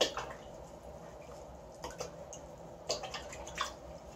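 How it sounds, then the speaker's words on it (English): Paint brush being rinsed in water while a painted screen is worked on: faint, sparse splashes and drips against quiet room noise, with no voices. "I'm going to rinse out my brush one more time."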